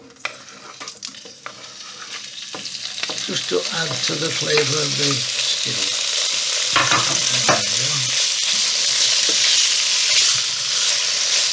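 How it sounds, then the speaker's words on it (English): Steady sizzling and frying of pork for stew builds and holds loud, with occasional clinks and stirring scrapes of a pan; a voice speaks briefly over it. "now we're going to put the meat into the frying pan just to brown them off"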